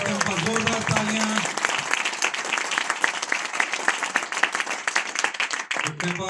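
An audience at a Vestige direct selling event in Nepal breaks into loud, sustained applause for Mr. Tempa, a dense crowd of clapping hands with brief vocal tones at the very start and end.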